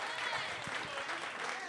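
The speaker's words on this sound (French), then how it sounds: "10 ans, on peut applaudir." A studio audience on a French-language talk show claps to mark the show's tenth season, a brief, dense burst of applause with voices mixed in underneath.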